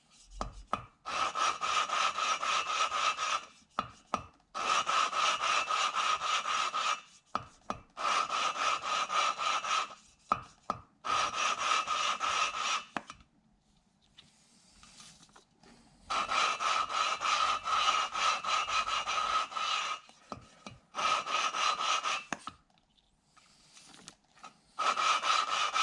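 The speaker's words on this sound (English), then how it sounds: "You hear that grinding get significantly lighter, and then as I pick it up and tap it," Valve lapping on a 2009 Hemi 1500 long block, grinding compound rasping rhythmically against the seat in long steady scraping bursts with short pauses between, close and loud, no talking.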